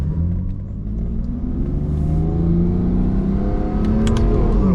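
A modified BMW F80 M3 accelerates hard from inside the cabin, its engine rumble rising steadily in pitch through a sustained pull, loud and close, with no talking.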